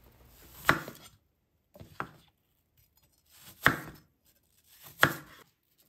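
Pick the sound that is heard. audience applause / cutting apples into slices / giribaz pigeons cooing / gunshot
cutting apples into slices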